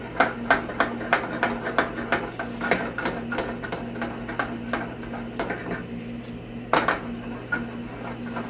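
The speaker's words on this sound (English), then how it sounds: "if you can't flip a pan like I'm doing right now" A metal pan of spaghetti carbonara is tossed repeatedly on the stove, giving a quick rhythmic series of sharp clanks and scrapes over a steady low hum, close and fairly loud.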